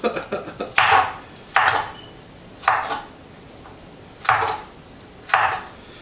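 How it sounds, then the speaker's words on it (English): A knife chops an apple into fry-shaped sticks on a cutting board, five or six firm, evenly spaced thuds at close range with quiet gaps between them. "I've never cut an apple up like this before"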